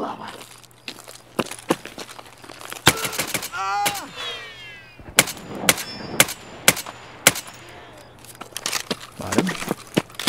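Sharp gunshots in the video game Escape From Tarkov crack out in scattered bursts, some single and some in quick clusters, with clanging metallic impacts between them; no talking.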